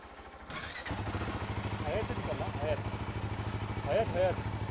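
A Royal Enfield Himalayan motorcycle engine runs with a steady, loud, throbbing thump as the bike pulls away, and the rev rises briefly near the end. Voices are heard faintly over the engine.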